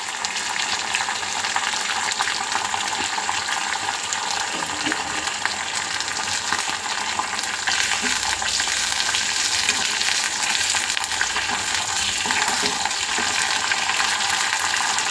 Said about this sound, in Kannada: ಇದಕ್ಕೆ ಕರಿಬೇವಿನ ಸೊಪ್ಪು ಹಾಕ್ಕೊಂಡು ಫ್ರೈ ಮಾಡ್ಕೊಬಿಡೋಣ